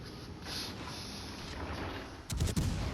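Naval gunfire from the light cruiser Leander in World of Warships Legends, a ranked tier 5 battle: a steady low rumble, then a loud cluster of heavy booming shots near the end.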